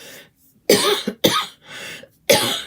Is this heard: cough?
yes